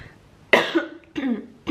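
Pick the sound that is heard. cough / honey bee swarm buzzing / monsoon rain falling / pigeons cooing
cough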